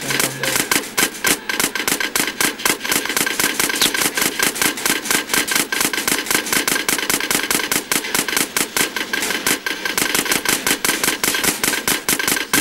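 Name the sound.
gunfire in video game GTA San Andreas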